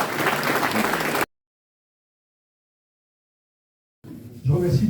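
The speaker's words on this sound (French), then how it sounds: "On peut les applaudir tous les trois." A crowd breaks into loud applause at a New Year's greetings ceremony for a regional community president. The clapping lasts about a second, then cuts to silence, followed by a voice resuming nearby.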